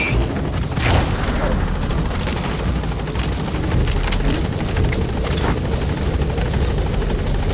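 Helicopter arriving at a landing zone in Metal Gear Solid V: loud, continuous rotor roar and engine drone, close and steady for several seconds.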